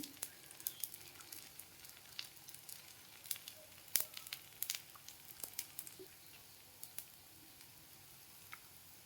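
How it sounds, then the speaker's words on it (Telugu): Masala dosa batter sizzles in oil on a dosa pan, a faint, steady crackle with scattered small pops and ticks, close by and without speech. "దోశ పాన్ పెట్టుకున్నాం కదా, దోశ వేసుకుందాం. ఇలా వేసుకొని ఆయిల్ వేసుకోండి."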